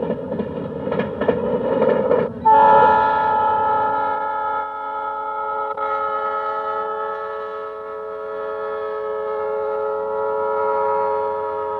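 A Southern Pacific train, the Blue Streak, passes at Hearne, Texas, in 1973 with a rumbling roar, then a long sustained multi-tone horn blares steadily, loud and near.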